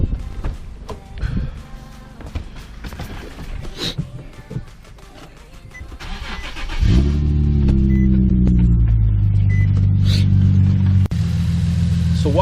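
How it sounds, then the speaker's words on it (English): An Infiniti G37 engine cranks and starts partway through, then settles into a steady, loud idle hum close by, after earlier shuffling and handling noises. "I'm just gonna turn the car on and have it idle for a while."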